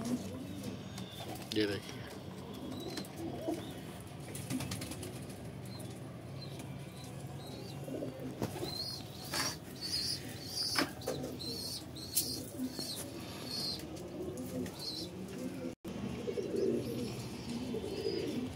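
Pet pigeons, including a pair with their young, coo softly and repeatedly nearby while a person talks over them, with occasional chirps and a few light wing flutters.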